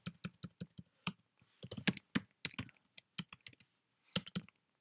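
Fast typing on a computer keyboard while coding in HTML and JavaScript: crisp, close key clicks come in quick uneven bursts with brief pauses, and no one speaks.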